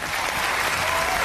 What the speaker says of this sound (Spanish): Un aplauso para Xavi